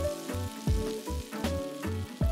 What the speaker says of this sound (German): die Hähnchenbrustfilets bei mittlerer Hitze von beiden Seiten 2-3 Minuten angebraten, bis sie dann goldbraun waren